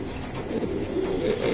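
A pair of racing pigeons give soft, throaty coos, a couple of rolling calls nearby over a low background hum.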